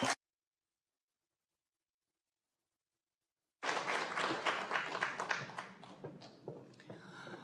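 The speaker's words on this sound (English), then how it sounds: "Please join me in a round of applause for these thoughtful and meaningful presentations" Audience applause breaks out after panel presentations at a symposium on gender-based violence, a dense wash of many hands clapping that begins after a long silence and carries on steadily, with a few voices mixed in.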